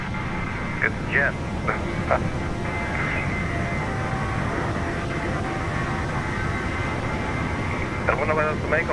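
The steady roar of a PMDG 737-800's jet engines fills the cabin in Microsoft Flight Simulator, holding as a constant broadband drone while people talk over it.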